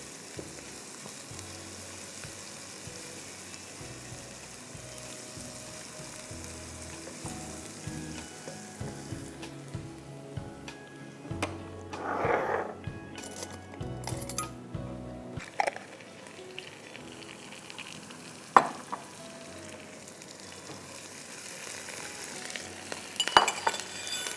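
Crushed garlic and Italian-style paste fry in a pan with a steady, soft sizzle, joined midway by a louder swell of hissing and light clinks of a utensil against the pan.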